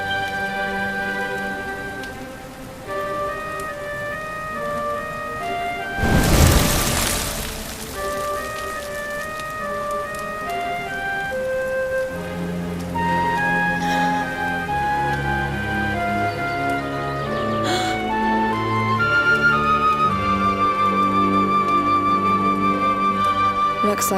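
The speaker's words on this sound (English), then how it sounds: "Looks like the rain's dying down." Steady rain patters softly in Dragon Quest XI, a continuous hiss beneath tonal game music, with one brief louder whoosh partway through.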